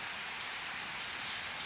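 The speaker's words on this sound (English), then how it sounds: "Unfortunately, it's not going to stop raining according to the weather." Steady rain pattering on an orchard, a soft, even hiss of falling drops throughout with no voices or other sounds.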